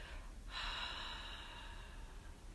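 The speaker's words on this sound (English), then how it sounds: "breathe out slowly to the count of 8. And you make a nice, loud, audible sound." A long, slow, breathy exhale during a breathing exercise, steady and fairly close, starting after a brief pause and trailing on for about two seconds.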